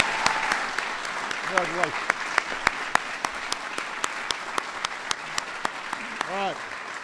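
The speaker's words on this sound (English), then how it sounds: "So everybody give them a big round of applause." Crowd applause at a White House event honoring Los Angeles hockey and soccer championship teams runs under someone speaking, with a steady wash of clapping punctuated by sharp, regularly spaced clicks.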